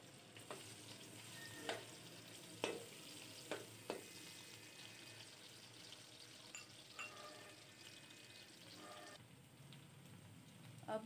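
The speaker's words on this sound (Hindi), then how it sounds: "अब हम इसके अंदर प्याज डालते हैं।" Chopped onions hitting hot oil in a pan while cooking matar pulao, giving a steady close sizzle and crackle with a few louder stirring clatters and splashes scattered through.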